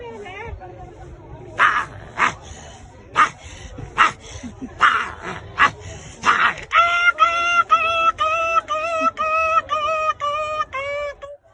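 At the Badami Banashankari temple fair, a man imitates a big dog with his voice: a string of gruff bark bursts, then a rapid series of high whimpering yips, loud and close, with crowd chatter around.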